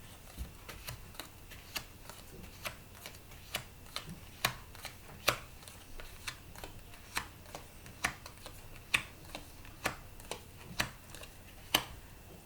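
Tarot cards being cut and shuffled in a quiet room, a steady run of crisp, close card snaps and riffles repeating at a brisk, slightly irregular pace with no voice over them.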